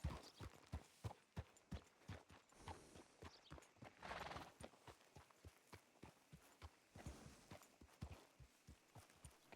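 Horse hooves clip-clop at a steady walking rhythm in a ranch roleplay video game, a neigh briefly audible, the footfalls close and faint.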